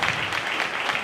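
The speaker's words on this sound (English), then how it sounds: "everybody give yourself a round of applause for being here tonight" A crowd at an evening Latina leadership event gives itself a round of applause: a brief, dense, continuous patter of many hands clapping at once, fairly loud and even.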